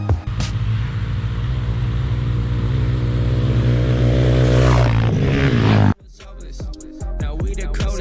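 A 2020 Raptor 700R ATV engine with an HMF full exhaust roars steadily at high revs for several seconds, then cuts off abruptly, leaving scattered clanks and quieter rumbling.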